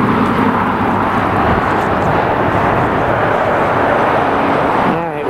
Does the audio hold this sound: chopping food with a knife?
no